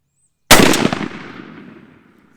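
A single loud shotgun blast fired to check its pattern after a hunt, with a sharp crack followed by a long decaying rumble and echo trailing off over about two seconds.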